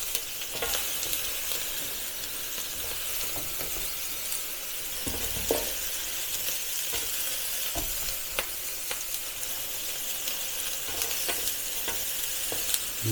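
Red peppers and onion fry on a Ninja Sizzle grill with a steady close sizzle, punctuated by scattered crackles, pops and a few scraping clicks of tossing.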